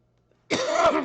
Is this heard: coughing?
yes